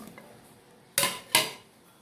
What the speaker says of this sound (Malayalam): അതിലേക്ക് കട്ട് ചെയ്ത പച്ചക്കായ ചേർക്കുന്നുണ്ട്